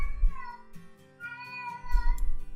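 A cat meows several times in a row, with the calls rising and falling in pitch and coming close and fairly loud, with short pauses between them and no one talking.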